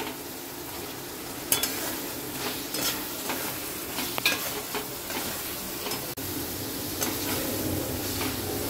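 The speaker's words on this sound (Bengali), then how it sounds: "এবারে আলুগুলো দিয়ে খুব ভালো করে আমরা কষবো।" Potatoes for a prawn and potato curry sizzle and fry in a pan, with a steady hiss of oil and repeated scraping and stirring clicks from a spatula, close up and with no talking.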